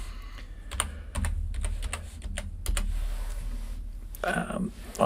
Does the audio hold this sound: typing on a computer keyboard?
yes